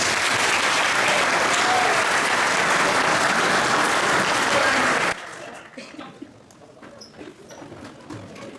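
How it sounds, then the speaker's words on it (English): Banquet audience at a high school football banquet applauding the players, loud sustained clapping for about five seconds that stops abruptly, leaving quiet room murmur. "Give these guys a round of applause"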